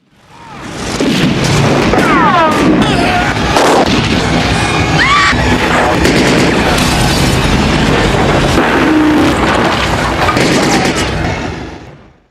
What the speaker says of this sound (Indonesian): dengan dingin si Cobra berhasil menembak beberapa anak buah si Igor.